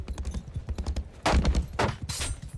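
Galloping horse hooves in a video game, a steady rapid clip-clop pounding close and loud, overtaken midway by bursts of louder in-game action noise.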